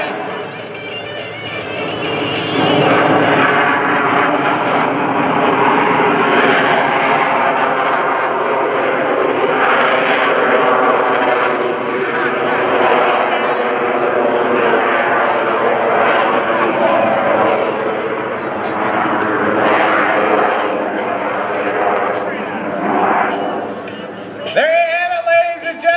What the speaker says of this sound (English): Here comes the jet.